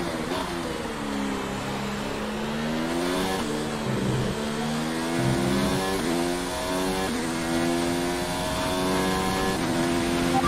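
A Formula 1 car engine in the F1 2019 racing game screams continuously at high revs during a Brazilian Grand Prix race, with a worn motor losing some power, its pitch rising and dropping through gear shifts, loud and constant throughout.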